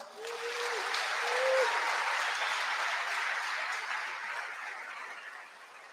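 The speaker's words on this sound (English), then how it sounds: "Give a big applause for yourselves." Audience applause at the reveal of a Solar Team Twente solar car: sustained, dense clapping from a large crowd fills the space for several seconds, swelling early and then slowly tapering off near the end.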